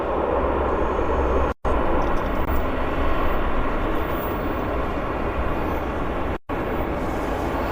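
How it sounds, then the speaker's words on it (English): An airplane taxis at Vancouver International Airport, producing a steady broadband engine rumble and whine at moderate distance that holds throughout, broken by two brief dropouts, with no talking. "here's an airplane taxiing"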